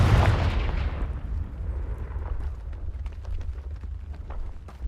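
A Confringo blasting spell goes off in Hogwarts Legacy as one loud, sharp explosive boom at the start, followed by a rumbling decay and scattered crackles fading over several seconds.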